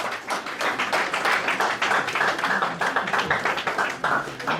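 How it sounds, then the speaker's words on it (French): Applause from guests at a civil wedding ceremony, a steady, dense patter of many hands clapping throughout, with faint voices mixed in. "Applaudissez pour les hommes."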